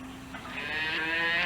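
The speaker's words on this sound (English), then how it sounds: "These are all the cows that are waiting to be milked." Dairy cows waiting their turn to be milked let out a long, rising moo that swells in loudness, with no talk over it.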